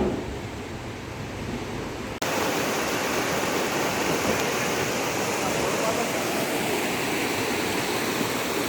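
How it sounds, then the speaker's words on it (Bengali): The Rishi river in Sikkim rushes past close by, a loud, steady broadband roar of fast-flowing water that grows fuller after the first two seconds and continues without a break. "এই হচ্ছে ঋষি নদী।"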